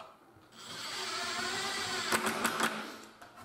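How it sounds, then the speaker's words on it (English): A powered driver whirs as screws are driven into a tubular mortice latch, a close, steady motor whine lasting a couple of seconds with a few short bursts near the end. "So we'll put our screws in."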